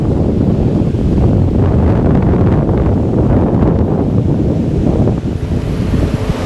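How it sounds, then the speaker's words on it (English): Strong wind roars steadily into the microphone, a dense continuous buffeting rumble with no voices, sustained throughout. "the wind's really getting tough"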